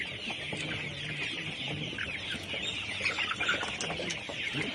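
A large flock of about 3,500 layer pullet chickens at a poultry farm keeps up a dense, continuous clucking and chattering, steady and fairly near, with no talk over it.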